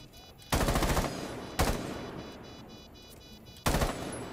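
Video game gunfire comes in three loud automatic bursts, each a rapid rattle of close shots that dies into a short decaying tail, with brief gaps of quieter game ambience between them.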